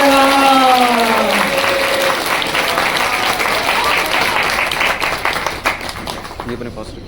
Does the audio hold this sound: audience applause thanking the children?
yes